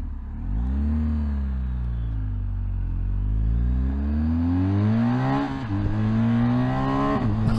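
A 2021 BMW S1000XR motorcycle engine revs hard and climbs through the gears under a quick shifter, each upshift a brief dip before the pitch rises again. The engine is close and loud, with a steady roar and no talk.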